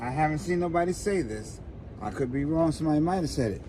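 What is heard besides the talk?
No everyday noises stand out.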